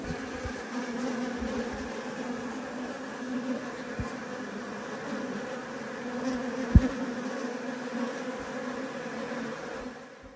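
A steady, droning hum of a swarm of Japanese honey bees buzzing together, close and continuous, with a couple of faint clicks.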